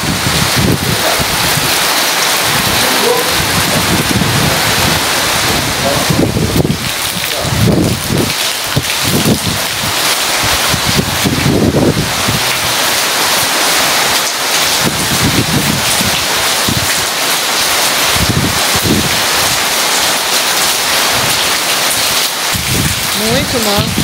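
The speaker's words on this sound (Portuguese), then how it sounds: "E chuva! Chuva, minha gente." Steady rain falls outdoors on a farm, a dense continuous hiss with wind buffeting the microphone and no clear thunder, while people talk intermittently over it.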